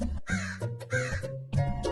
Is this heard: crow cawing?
yes